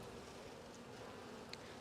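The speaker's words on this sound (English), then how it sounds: "there's a lot of bees on this frame." A dense crowd of honeybees on a hive frame hums in a steady close buzz that holds throughout a brief moment, with no talk.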